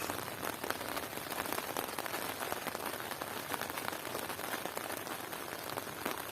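Steady, moderate rainfall patters continuously on a tent at a campsite in the ancient theatre at Kaş, Antalya, an even hiss with scattered drops and no voices.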